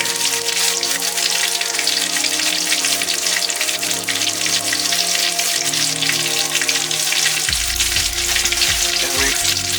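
Skinless mahi mahi fillet sizzling in hot oil and butter in a pan inside a camper, a loud, steady crackling fry with popping spatter throughout.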